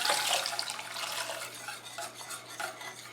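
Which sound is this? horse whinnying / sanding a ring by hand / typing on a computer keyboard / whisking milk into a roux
whisking milk into a roux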